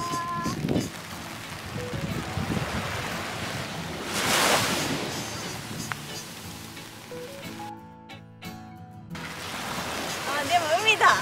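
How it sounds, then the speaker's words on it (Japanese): Surf rolls onto a quiet summer beach in Japan, waves washing in and receding under gusty wind buffeting the microphone, with people chatting casually over the shore noise. "あ、でも海だ、ちゃんと海だ。"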